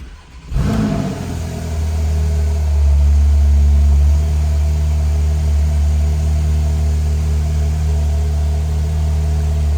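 A 2018 Porsche 911 991.2 Targa 4 GTS engine cranks and fires up with a brief rev, then settles into a deep, steady idle rumble that continues, loud and close.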